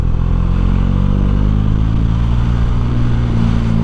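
A Bajaj Dominar motorcycle engine hums with a steady, loud drone while riding hairpin bends, the low rumble constant and close, with light mechanical clatter.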